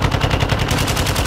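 A video game sentry gun fires a rapid, steady burst of automatic shots, loud and close, with no pauses over a little more than a second.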